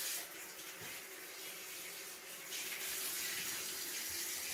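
Shower water runs steadily while a cat is washed, a soft continuous hiss and splash at low level with faint shifts in flow and no voices.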